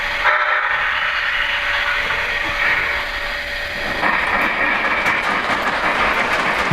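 A Lionel Lion Chief Polar Express elf work model train runs with a steady, close rumbling clatter and a hissing wash of sound throughout, with no one speaking.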